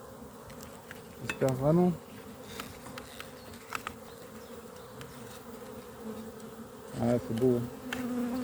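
Honeybee colonies at their hives during a spring apiary inspection, a constant low buzzing hum with individual bees zipping past close by, while someone speaks French briefly twice.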